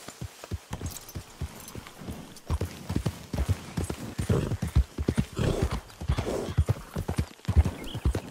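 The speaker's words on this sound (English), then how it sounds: "now it's time for this long, long horse ride all the way back to Saint Denis" A horse clip-clops along at a walking pace in Red Dead Redemption 2, its hooves thudding in a steady rhythm up close, while a whinny rises partway through.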